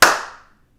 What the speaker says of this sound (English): you clap your hands and go, wow, wonder how my kitchen sounds